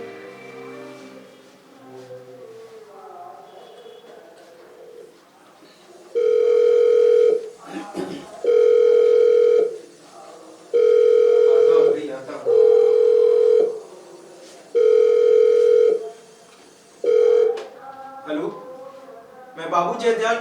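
Telephone ringing in a stage play, with regular bursts of electronic ringing repeated about six times, loud and clear, with a voice speaking before the rings start.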